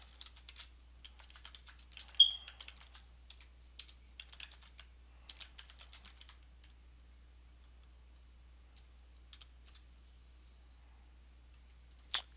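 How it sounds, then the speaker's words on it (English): Quick, light keystrokes on a computer keyboard while text for a Facebook group post is entered, irregular clicking bursts up close, then a long quiet gap and a final key tap. "Now I type in some text."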